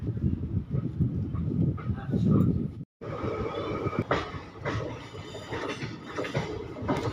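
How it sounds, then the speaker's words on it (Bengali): Train 13417 on the Asansol to Malda route pulls out of the small rural Gumani station, its carriages rumbling and rattling steadily from inside, broken by one brief dropout. "ট্রেন ছেড়ে দিল গুমানি স্টেশন"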